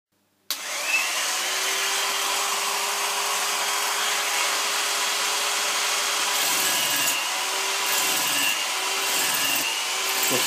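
A steel scraper blade drags across a cast iron surface plate in steady rasping strokes, beginning abruptly and continuing loud and close, with a few brief lifts between passes near the end.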